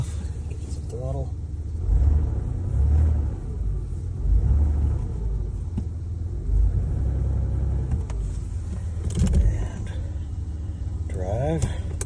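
A 1986 Ford Ranger pickup truck's engine rumbles and revs under throttle while the truck is put into gear, with a low steady drone rising in surges; someone talks over it throughout.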